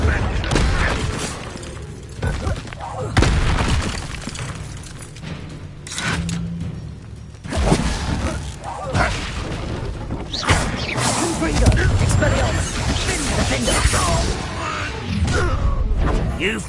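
A Confringo blasting spell in the Hogwarts Legacy video game bursts with loud booming, crashing impacts amid battle noise and music, with voices talking throughout.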